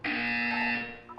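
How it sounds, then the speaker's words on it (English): Buzzer in the video game Portal 2, sounding as a single loud, harsh electronic tone that holds steadily for most of a second before cutting off, alone without talk. "When you hear the buzzer, look down at the floor"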